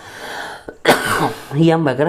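A single sharp cough, close and fairly loud, with a person talking just before and after it.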